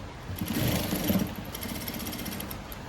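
A sewing machine stitches folded blouse cloth, giving a faint, steady mechanical whir with a slightly louder patch early on, heard alone without talk.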